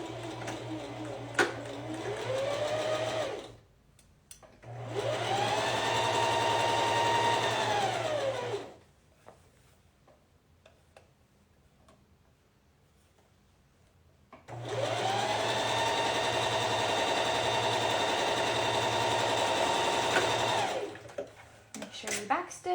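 A sewing machine stitches a seam at a 3/8 inch allowance with stitch length 2, running in two long steady whirring stretches, its speed rising and falling, with quieter handling in between.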